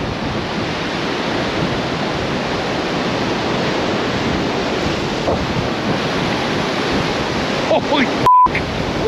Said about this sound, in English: The water's just retreated and now it's coming right back in.